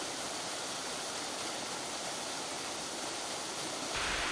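An autumn waterfall in a mountain valley, swollen by seasonal rain, roars as a steady, dense rush of falling water that fills the whole clip without pause, with a slight swell in the final moment.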